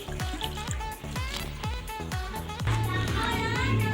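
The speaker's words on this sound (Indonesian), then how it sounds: "Masukkan air yang telah disiapkan 500 ml." 500 ml of water is poured into a pot in a steady, trickling stream over rhythmic background music.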